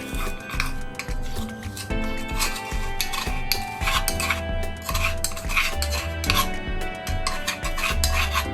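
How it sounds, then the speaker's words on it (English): Crushed spice paste scraped from a mortar into a cooking pot: close, continuous gritty scraping and rubbing with light metallic clinks, steady and fairly loud. "So I'll scrape that into the pot"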